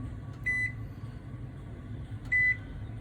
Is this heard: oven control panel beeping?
yes